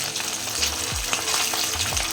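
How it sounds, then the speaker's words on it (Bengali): Kajoli fish frying in oil in a pan as the pieces are flipped to the other side, a loud continuous sizzle with scraping utensil taps and brief sliding sounds close by. "এক পাশ ভালো করে ভাজা হয়ে গেছে, অপর পাশ খুব সাবধানে উল্টে দিতে হবে।"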